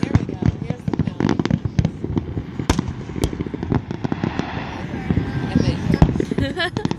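A Fourth of July fireworks finale fires in rapid, dense volleys of loud booms and crackling pops, with bursts overlapping continuously and a crowd audible underneath.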